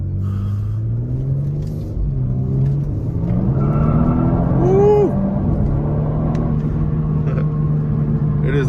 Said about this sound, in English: It is actually so funny to me how easy it is to do a rolling burnout in this thing.